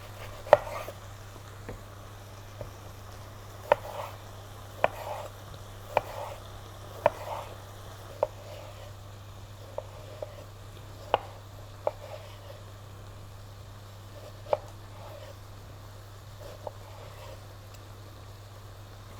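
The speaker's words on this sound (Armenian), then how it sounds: "Սկզբում երևի կտրատենք լոլիկը։" A knife chops tomato on a cutting board for Mexican nachos salsa: sharp, sparse knocks spaced every second or so over a low steady kitchen hum, with no talking.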